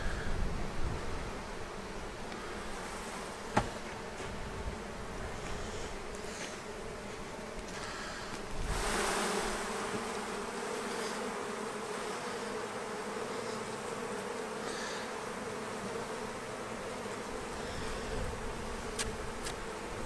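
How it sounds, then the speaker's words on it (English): Honeybees buzz steadily inside an opened hive during a beekeeper's inspection, forming a continuous dense drone close to the listener, with occasional rustles and a brief click of handling. "There's a ton of bees in here."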